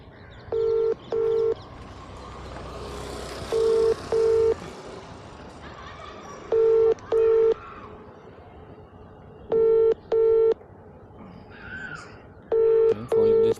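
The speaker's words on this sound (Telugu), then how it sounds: "నంబర్ కొట్టు నువ్వు" A phone number is keyed in as pairs of short, steady DTMF beeps, repeating at regular intervals with faint background noise in between.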